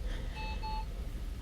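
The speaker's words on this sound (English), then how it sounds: "Sorry about the random beeping. Occasionally the baby monitor" A baby monitor beeping on signal loss gives a short pair of thin electronic beeps, faint under a steady background hiss.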